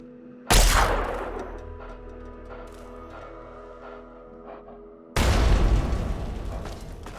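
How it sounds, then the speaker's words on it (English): Two loud explosions in Fallout 3 during a beta-testing scene, each a sudden booming burst decaying into rumbling debris, with quieter clattering between them and the second blast sustained to the end. "Big explosion."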